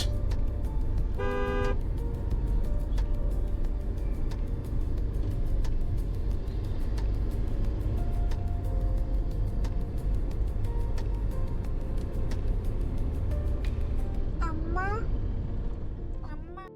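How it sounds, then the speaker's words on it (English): Dense city road traffic on a highway stretch through Vijayawada, a steady loud rumble of engines with scattered car horn toots, a voice talking briefly over it. "Getting through the city traffic for almost 35 minutes."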